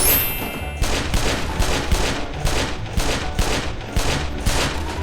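Rapid bursts of video game gunfire from Roblox, a loud steady volley of repeated shots with no talk over it.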